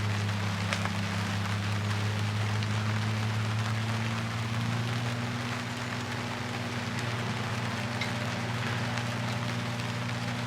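Rain falls steadily outdoors, a continuous close patter of drops on surfaces over a constant low hum, with no voices.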